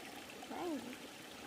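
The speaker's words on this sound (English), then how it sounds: "We're just enjoying this nice little creek here." A nice little creek flows gently, a faint, continuous trickle and babble of water, with a brief voice-like sound rising midway.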